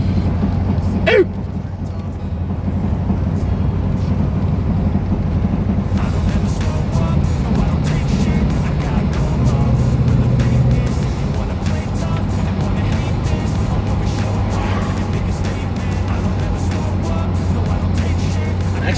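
A 1967 Ford Thunderbird cruising down a road on loose-feeling tires, its steady engine drone and road rumble holding close and constant throughout, with a brief sharp knock near the start.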